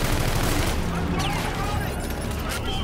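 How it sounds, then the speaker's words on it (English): Sustained rapid gunfire from Aegis defense guns shooting at a fleet in the Call of Duty: Infinite Warfare campaign, a dense continuous barrage with booming low rumble throughout. "ZF is using our Aegis guns to shoot down the fleet"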